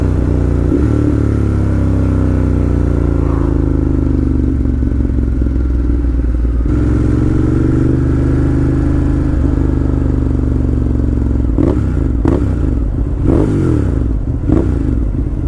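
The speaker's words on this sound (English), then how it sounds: "they're scared of my exhaust. It's really loud." A motorcycle with a very loud exhaust rides along a rural road in Spain, its engine note holding steady and then rising and falling. Sharp revs and throttle bursts come near the end.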